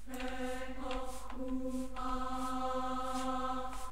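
A sampled choir-style vocal phrase from the Olympus Elements vocal library sings one sustained pitch, its vowel shifting a few times over four seconds. It is steady and fairly loud, with no talking.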